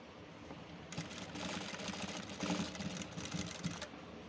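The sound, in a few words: sewing machine stitching beside thread piping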